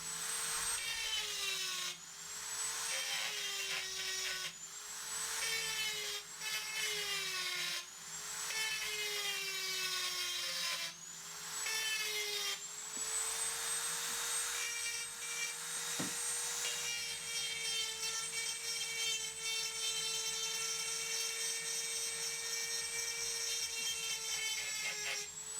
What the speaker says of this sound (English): I've got a Dremel, so I might as well use it